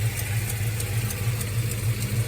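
A 1970 Plymouth Fury III with a 440 big block on a dual-plane intake idles steadily with a deep, slightly lumpy rumble, close and continuous with no talk.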